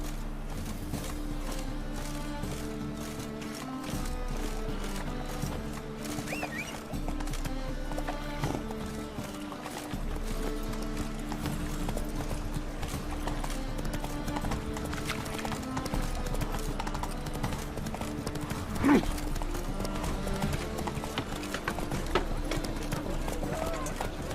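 Hooves clip-clop in a steady galloping rhythm as a horse runs in the video game The Witcher 3: Wild Hunt around Novigrad. The pounding continues throughout under game music and character dialogue.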